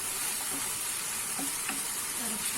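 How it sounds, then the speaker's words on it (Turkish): Chicken sizzles and fries in a pan with a spoonful of soy sauce as it is stirred, a steady close crackling hiss running throughout with faint scraping of the stir. "Bir yemek kaşığı da soya sosu ekliyorum. Böyle güzelce tekrardan karıştırıyoruz"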